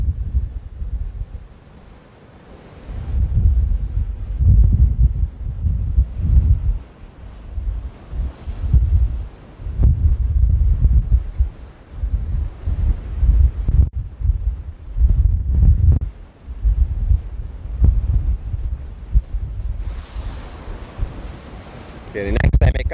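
Gusty wind buffeting a microphone outdoors at Cove Bay, a loud low rumble that swells and drops in uneven surges throughout, with a brighter rush of air near the end.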